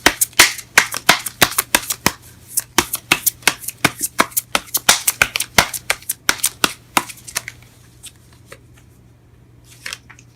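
Tarot cards shuffled by hand in a rapid run of crisp riffling flicks, close and clear, slowing to a few scattered taps near the end; no one speaks.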